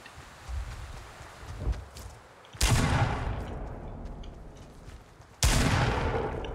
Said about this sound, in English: I'm using a revolver.